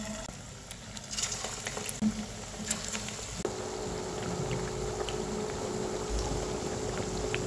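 Banana flower fritters (mochar bora) drop into hot oil in a pan, and a steady, soft frying hiss rises and holds after a few quiet seconds of faint kitchen clatter.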